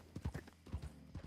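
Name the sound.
horse hooves clip-clopping in video game Westhaven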